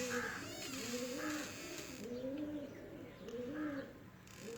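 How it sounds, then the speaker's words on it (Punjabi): Pigeons coo in repeated soft, throaty rolling calls close by, several phrases in a row with light chirps mixed in and a faint voice in the background. "ਕਬੂਤਰ ਹਿਲ ਰਹੇ ਨੇ"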